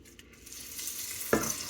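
Pork trotters browning in a pot for a Quebecois stew, giving a soft, steady sizzle close by that swells gently, with a brief clink or stir near the end and no voices.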